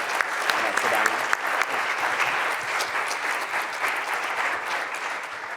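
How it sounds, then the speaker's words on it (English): Audience applause for a lecturer at an academic lecture: sustained clapping from a moderate crowd that slowly thins, with scattered voices and a brief spoken word mixed in. "another round of applause for Dr."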